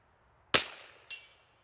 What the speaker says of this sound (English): I'm going to shoot a sighter.